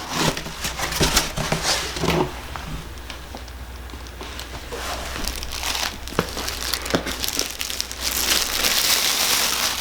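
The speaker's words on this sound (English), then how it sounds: "He loves that type of crinkly paper." A dog roots through crinkly packing paper up close, giving busy bursts of crackling and rustling that come and go irregularly throughout.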